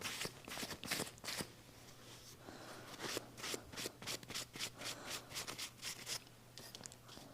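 A cloth dampened with alcohol wipes smoke residue and dust off laser-engraved pieces, making quiet, close, repeated rubbing and scrubbing strokes in an irregular rhythm, with no talking.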